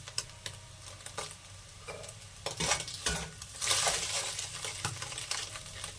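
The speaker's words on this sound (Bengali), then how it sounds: "এবার ভুজিয়া বানিয়ে নেব পাস্তাতে দেওয়ার জন্য।" Egg bhujia (scrambled egg) being stirred and fried in a pan, with repeated close scraping and clinking of a utensil against the metal over a soft steady sizzle, strokes coming in an irregular rhythm.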